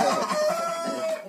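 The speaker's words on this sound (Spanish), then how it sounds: "Este es uno de los gallos más grandes de la casa" A large fighting rooster at a Peruvian gamecock farm crows once, loud and close, a sustained strained call lasting just over a second with no talk over it.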